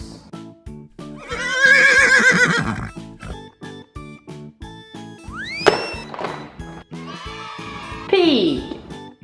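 A horse neighs in a long loud whinny early on, then squeals again later, alongside a toy animal voice, over a steady rhythmic children's music beat with clip-clop-like knocks.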